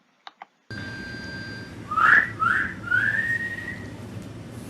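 Several short rising whistles, loud and close, sounded for a robot's stereo-microphone sound localization test, following two faint clicks and over a low steady machine hum.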